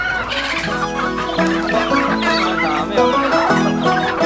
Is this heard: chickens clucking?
yes